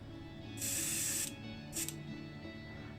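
Dark grey satin acrylic paint is airbrushed onto a small die-cast Ford Escort XR3 model in two short hissing bursts, a longer one then a brief one, close and quiet with no talk.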